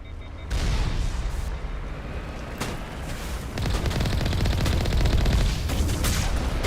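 Sustained rapid weapon fire in Mass Effect Legendary, dense crackling bursts with booming impacts, loud and continuous with intensity rising partway through.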